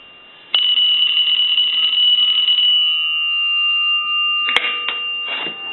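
A single-slot payphone bell rings loudly in one sustained burst, then decays into a lingering ring, followed by a few clunky handling knocks and clatters.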